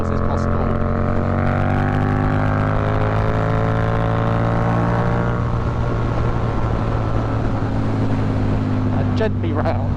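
Engine drone of a Yamaha MT-07 motorcycle while riding, a loud continuous hum that shifts pitch gradually, with rushing wind noise throughout.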